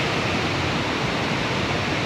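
The hidden waterfalls in Luisiana, Laguna roar with a dense, steady rush of falling water, loud and close, with no voices over it.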